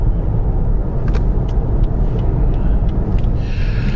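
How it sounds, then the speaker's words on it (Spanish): A Lexus UX with a CVT transmission accelerates, giving a loud, steady low drone of engine and road noise that holds at an even level throughout, with faint brief squeaks and hisses above it. "Como pueden escuchar, pues bajo presión, siempre ese sonido exasperante que producen este tipo de transmisión"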